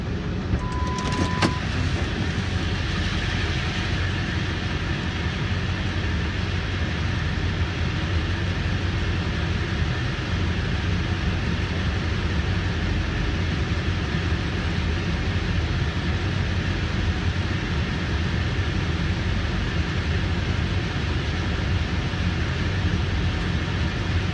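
A Ford F350 truck with the 7.3 diesel engine idles after a cold start, giving a steady, even drone throughout with a brief tone chiming near the beginning and no talking.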